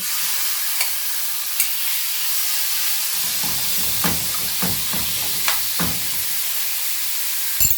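Chicken and kefta sizzle in a hot pan, giving a steady bright hiss of frying broken by soft stirring scrapes and occasional clinks, close and clear, with no talking.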